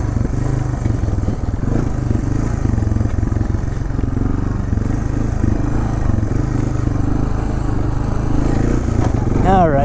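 A Honda 300 Fourtrax 4x4 ATV crawls down a bank in first gear with a low, steady engine drone, and a rider talks over it the whole time.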